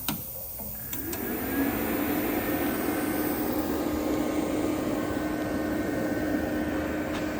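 A VEVOR CUT 50 plasma cutter switches on with a click, then its fan settles into a loud, steady whirring hum that runs without a break.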